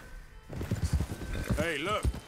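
A horse's hooves clop in a steady rhythm in Red Dead Redemption 2, close and moderately loud beneath someone talking.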